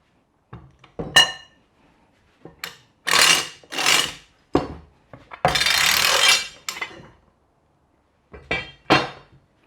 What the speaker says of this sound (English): we're going to remove the lifting assembly